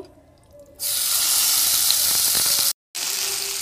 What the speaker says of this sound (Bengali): এর মধ্যে আমি ম্যারিনেট করে রাখা চিকেনটা দিয়ে দেব